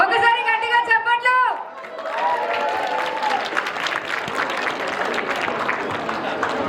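An audience at a dance performance breaks into loud, sustained applause with scattered cheers, following a few seconds of a person talking over a microphone.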